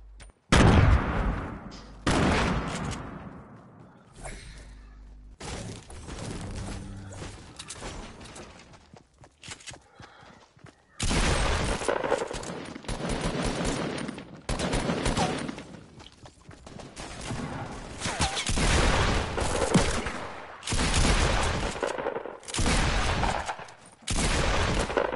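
Rapid SMG bursts from a Fortnite Season 5 match crackle in repeated clusters, with a quieter stretch in the middle before heavy firing resumes, loud and near throughout.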